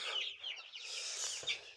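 Young goslings with downy feathers peep and chirp softly outdoors while eating dandelions, a few quick high calls close by with brief gaps between them.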